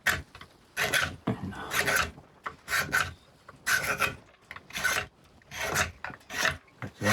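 A sharp carver's hook, likened to a one-tooth chainsaw, scrapes across wood in surface whittling, giving about nine close, rasping strokes in a steady rhythm with brief gaps between them.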